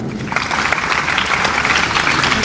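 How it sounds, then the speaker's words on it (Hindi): Loud, dense applause from a crowd at a National Doctors' Day event in Raipur, filling the whole moment as a steady wash of clapping with no voices on top. "जोरदार तालियां।"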